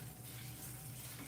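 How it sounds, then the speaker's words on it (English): Water is sprayed onto natural hair during a gel styling session, making a faint, steady hiss that runs evenly throughout without any talking. "And now I'm going to add the water to my hair."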